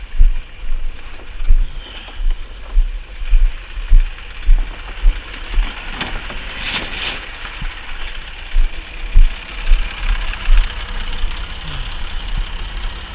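A farm grinder chews pig feed unloaded straight from a full wagon, a steady mechanical clatter with rhythmic knocking pulses repeating about twice a second, close and continuous.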